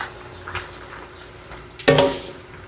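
Chicken afritada with potatoes, carrot, hotdog and quail eggs stirred in a pan: a low simmering hiss with a few soft scrapes, then one louder scraping stir near the end.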